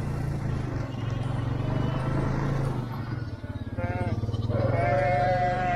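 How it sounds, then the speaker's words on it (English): A large flock of sheep bleats in a farm field, with several overlapping calls rising near the end over the steady drone of a vehicle engine idling nearby. "That's a lot of sheep."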